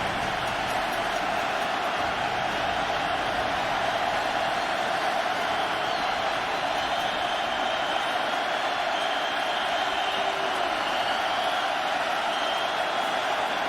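A stadium crowd at a Florida at Miami college football game roars in a steady, broad, distant-sounding wash that holds without a break from start to finish.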